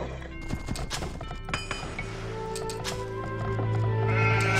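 Horses in Age of Empires 2, a Land Nomad match of Vikings against Japanese, make a quick run of clip-clop hooves and whinnies, followed by layered game effects and a rising droning background tone.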